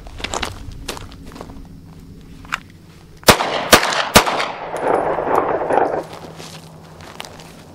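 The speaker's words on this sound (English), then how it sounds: "You might be in a situation where you have to draw and shoot from the hip." Handgun shots fired from the hip while practicing a concealed-carry draw: three sharp, loud reports in quick succession, with a few fainter knocks and rustling before them and a brief echoing wash afterward.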